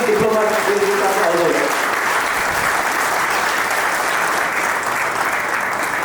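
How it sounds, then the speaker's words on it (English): Steady, sustained audience applause for African diplomats at a large India–Africa business conclave, a full room clapping loudly throughout, with a voice briefly over the start. "But we should clap for the African,"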